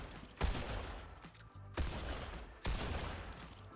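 Three heavy gunshot bursts in Fortnite, spaced about a second apart, each a sharp crack decaying into rumble, moderately quiet with no voices over them.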